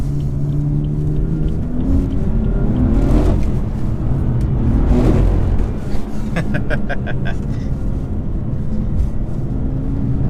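A BMW M4 with 60,000 miles drives on a damp road, its engine a loud, steady rumble heard from inside, with two swells as it pulls harder before easing back.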